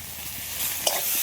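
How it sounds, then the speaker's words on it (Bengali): Taro stems with spices and fried onion fry in a pan while being stirred: a close, steady sizzle with quick scraping strokes and one sharp clack of the utensil. "মশলা আর কচুর গাঁটি সব একসাথে ভালো করে একটু কষিয়ে নিয়েছি"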